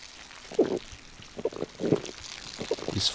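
Drinking water in the survival game SCUM, a few short wet gulping and sipping sounds spaced across a couple of seconds, close and moderately loud with no talk.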